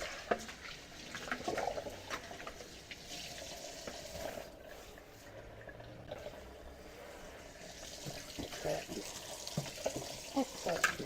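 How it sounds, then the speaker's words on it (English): Tap water runs into a sink as vegetables are washed for a pasta dish, a soft, continuous splashing with scattered clinks and rustles, fairly quiet and close, while someone talks intermittently. "Let's wash these things out."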